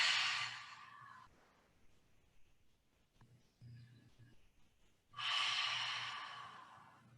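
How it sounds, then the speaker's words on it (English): Slow, audible breaths during a yoga pose: a long exhale, a quiet stretch with faint nasal breathing, then another strong breath, close and unaccompanied by speech. "2 more breaths here"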